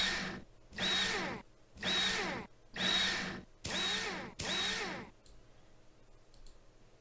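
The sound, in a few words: power tool screwing on rover wheel bolts in Rover Mechanic Simulator video game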